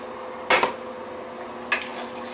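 A spoon scrapes and clinks twice against a pot while stirring a rice medley with onions and pre-cooked white hominy, two brief close metallic knocks over quiet background hiss.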